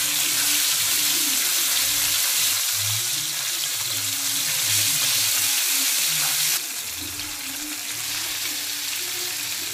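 Mangalore-style masala fish pieces fry in hot oil, a continuous close hiss and sizzle with a rougher, watery texture that drops slightly in level partway through, without any voices.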